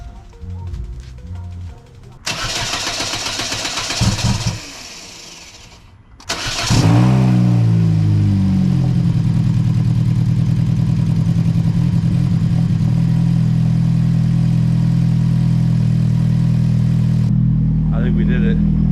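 A Chevrolet Sonic engine cranks and catches, then settles into a loud, steady idle close by, with voices heard before the start.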